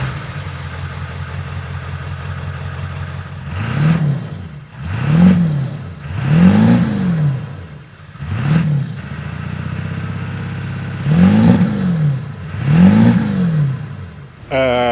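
A 7.3-liter turbo diesel pickup truck engine idles with a steady rumble, then revs hard six times in bursts, each rising and falling back to idle.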